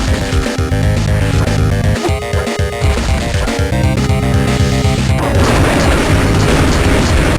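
Homing missiles explode in Turok: Evolution on the Game Boy Advance, a loud run of booming blasts and crashes over steady game music, with no talking.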